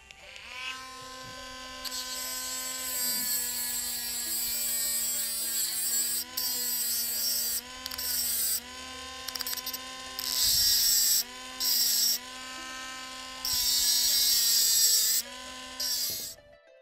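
A handheld electric rotary carving tool whines steadily as it carves sculpture material, its pitch rising and dipping with load, the grinding bursts louder in stretches, close and alone.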